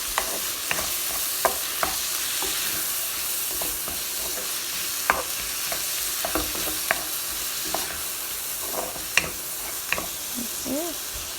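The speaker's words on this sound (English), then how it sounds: "Give it a nice stir like so." Onions, tomato, tomato paste and spices fry in a pan for a Nepali-style fish curry, with a steady soft sizzle and repeated scraping clicks of a spoon stirring, close and without talk.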